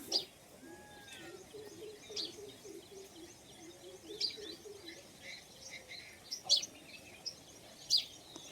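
Pigeons and sparrows feed on rice outside a house in the morning, with sharp sparrow chirps scattered through the scene and soft, low pigeon cooing beneath them. The sound is faint and moderately distant.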